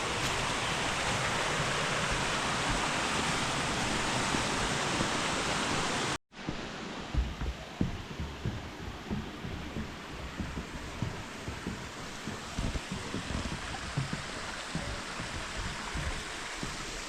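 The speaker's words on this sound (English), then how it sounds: "This is Carrot Creek." Carrot Creek at Table Rock State Park, South Carolina, rushes steadily with a constant broadband wash of water, briefly interrupted by a cut, then flowing on with small splashes and gurgles.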